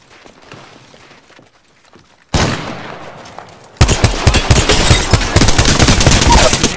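Rapid automatic gunfire from Apex Legends gameplay erupts loud and dense after a quieter stretch, dense bursts of shots piling up near and close with little pause.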